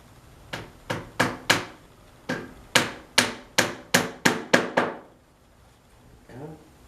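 Eleven sharp hammer blows drive nails into a wooden screen door frame, a quick run of four strikes, a short pause, then a steady series of seven, close and crisp, ending with a faint knock.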